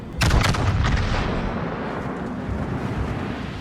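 A ship's cannon fires in a video game set at sea, one loud booming blast followed by a rumbling decay and lingering noisy battle ambience.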